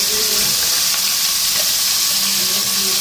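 Small pieces fry gently in hot oil, a dense, even sizzle with faint popping and a few stirring knocks throughout, steady and close.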